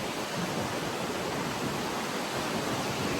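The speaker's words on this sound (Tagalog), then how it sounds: "Ang lakas ng hangin guys." Strong wind roars steadily across a Boracay beach, a dense, continuous rushing noise with constant buffeting and no pauses, loud and close.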